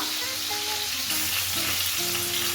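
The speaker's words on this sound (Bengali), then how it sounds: "মাছগুলো ভেজে নেবো হালকা ভাজবো মাছগুলো বেশি ভাজবো না" Koi fish fry lightly in hot oil over a lowered gas flame, producing a loud steady close sizzle with some faint tonal hum underneath.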